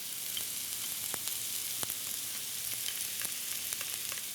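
Garlic and spices (chili powder, black pepper, Greek oregano, cumin) sizzle in a pan for Greek-Mex chicken fajitas, a soft continuous hiss with occasional small pops, close but fairly quiet.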